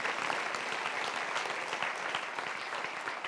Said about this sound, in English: give them a New Vintage hand clap to Grant and Cheryl Wendell